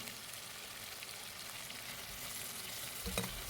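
Curry leaves frying in oil with crushed ginger and garlic for a vegetable biryani, a steady close hiss of sizzling with a stir or clatter of the utensil near the end.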